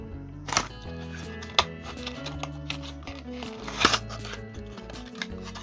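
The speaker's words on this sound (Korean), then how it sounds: "바로 개봉해 볼게요" Packaging of a Welly Mini Cooper 1300 model car being opened up close, with a few sharp crinkles and clicks over a steady faint tonal background.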